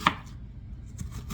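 An onion is chopped with a knife at close range, with one sharp cut near the start followed by a few softer, quieter knocks against the board.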